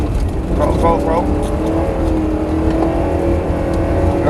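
A rear-wheel-drive car revs hard while drifting, its engine note rising and falling in repeated throttle bursts, loud and close, with a voice talking over it throughout.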